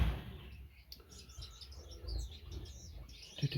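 Finches, including parrot finches, chirp and tweet steadily in an aviary, a busy scatter of high, faint calls over low rumbling background noise.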